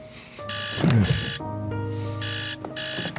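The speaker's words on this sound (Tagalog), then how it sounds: "cellphone ko pala nag-alarm." A cellphone alarm rings in repeated electronic beeping bursts, loud and close, with short gaps between the tones and no talking over it.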